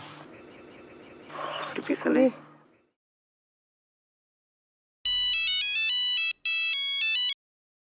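Talk comes first, then after a silent pause a phone ringtone plays bright electronic melodic tones in two loud bursts split by a short gap.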